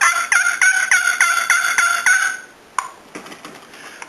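A custom longbox turkey call is stroked to make a quick, rhythmic run of about seven bright, raspy hen yelps, then a few softer, scattered strokes follow. The sound is loud and close.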